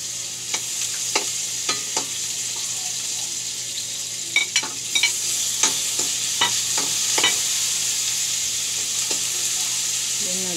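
Garlic frying in a pan with a steady hiss, punctuated by repeated sharp utensil clicks and scrapes as it is stirred, close and moderately loud.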